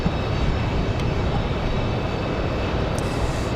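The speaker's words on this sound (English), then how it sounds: "Republic Airways 4509 off to JFK." A Republic Airways jet departs Raleigh-Durham on a windy day, a moderately loud, steady broadband engine rush holding evenly throughout.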